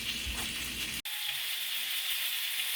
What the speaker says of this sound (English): the last of my chicken is still frying